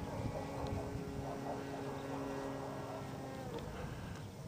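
A model airplane engine during flight testing, a steady buzzing drone with a faint whine, held at an even level from a moderate distance throughout, with no talking.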